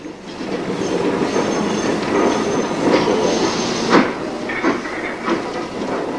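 LNER B1 'Bongo' mixed-traffic steam locomotive reversing past a North Eastern Railway shunt signal to make up a train for Whitby: steady rolling rumble and clanking of wheels over rail joints, with brief squeals and knocks, close and continuous.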